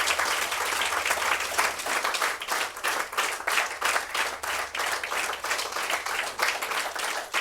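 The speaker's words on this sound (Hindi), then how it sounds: "अब तालियां बजाकर" Audience at a Hindi poetry gathering clapping in a rhythmic, pulsing pattern, many hands beating roughly in unison for over seven seconds, fairly close with a faint low hum beneath and no talk.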